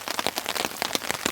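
Rain patters on a tent and tarp at a campsite, a close, crackling spray of drops with irregular heavier bursts as the shower builds.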